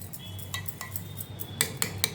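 Chopped onion, carrot, capsicum and coriander leaves being mixed with salt in a bowl, with scattered clinks and scrapes of utensil against the dish over a low background hum; no talking.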